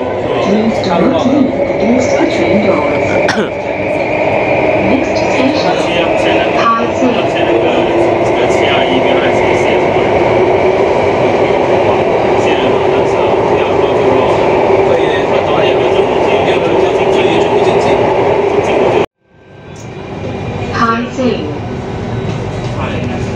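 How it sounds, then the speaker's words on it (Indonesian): A Singapore MRT subway train runs with a steady loud rumble and whine from inside the car, then cuts out abruptly near the end before returning, while people talk over it. "berada di MRT Singapura ya"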